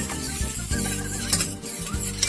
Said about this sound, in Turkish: İlk önce tereyağını koyuyorum bu şekilde. Eriteceğim bunu.